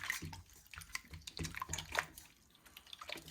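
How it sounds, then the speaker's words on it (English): Fingers working sourdough starter into water in a bowl, giving soft wet squelches and small drippy splashes in an irregular rhythm, close and fairly quiet with no talking. "I'm going to mix it with my fingers to get the sourdough and the water to mix and start to bond."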